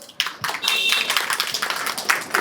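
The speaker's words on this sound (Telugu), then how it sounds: "ఒకసారి పోయిట్స్కి ఒకసారి గట్టిగా క్లాప్స్." An open mic audience bursts into dense, loud applause for the poets, a sustained close wash of clapping that starts abruptly after a brief pause.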